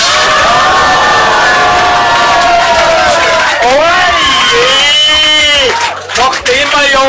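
Spectators at an amateur wrestling show cheer and shout loudly, a dense crowd roar with high whoops and children's yells rising and falling, and voices calling out over it.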